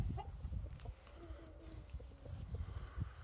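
Hens in a small henhouse give faint, scattered clucks over low rumbling outdoor background noise, with the birds sounding somewhat distant and quiet.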